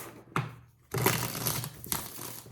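A deck of tarot cards is shuffled up close, giving crisp riffling bursts with short pauses between them.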